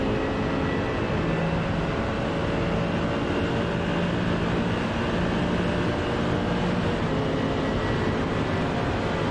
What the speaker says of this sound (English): Beautiful roar of the engine there, up into 6th gear